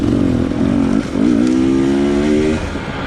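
Husqvarna TE250i two-stroke dirt bike ridden in second gear on a single-track trail, its buzzy engine loud and close, a brief dip in revs then a steady high drone before easing off.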